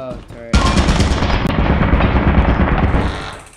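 Sustained turret gunfire in a video game: a loud, dense burst of rapid shots that kicks in after a brief pause and keeps pounding steadily for about three seconds before tailing off.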